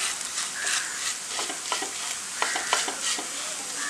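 A pan of potato being sautéed with spice powders for beef kozhukkatta, the spoon stirring and mashing in steady scrapes over a constant close sizzle, with no talking.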